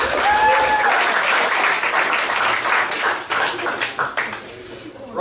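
Comedy club audience at an improv show applauding, loud dense clapping that thins toward the end, with a brief voice at the start.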